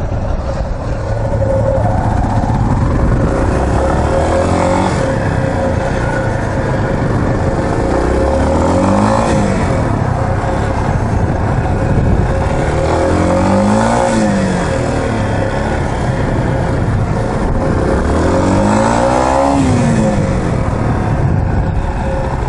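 A Honda CB motorcycle engine idles with a steady rumble, then revs up and drops back several times, close and loud.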